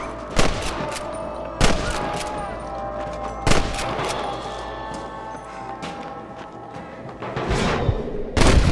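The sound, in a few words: gunfire from the video game Red Dead Redemption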